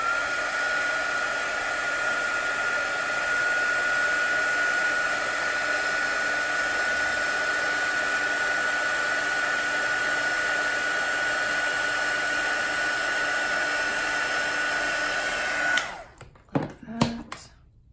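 A hair dryer blows a steady, loud whoosh over wet watercolour paint for about sixteen seconds, then clicks off, leaving a few faint knocks and handling sounds.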